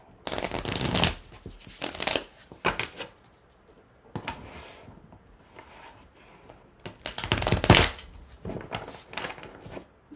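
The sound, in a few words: shuffling tarot cards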